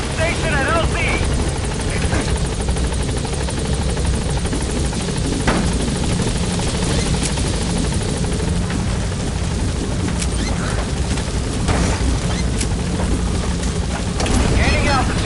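The Pequod helicopter in Metal Gear Solid V thrums steadily and loudly with a constant rotor drone and mechanical clanks as it arrives at the landing zone, with voices talking over it.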